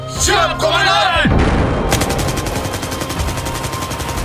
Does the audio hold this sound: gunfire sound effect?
yes